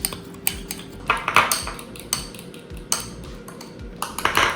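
A whisk beating a honey-based sauce with Sweet Baby Ray's and lemon juice in a bowl: rapid, uneven metallic clinks and scrapes against the bowl, close and fairly loud, with no voices.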